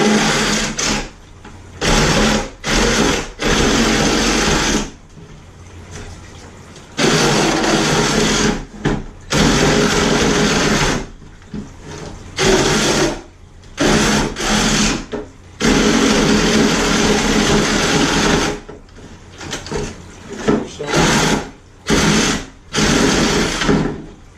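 A reciprocating saw (Sawzall) cuts through a plastic crate, loud buzzing bursts of a few seconds each, separated by short pauses as the cutting starts and stops.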